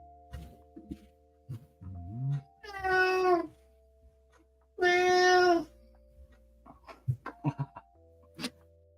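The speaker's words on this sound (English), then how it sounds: "Do you hear my cat?" A grouchy house cat meows indoors, two long, loud drawn-out calls about two seconds apart, with softer chirps and small household noises around them and no talking.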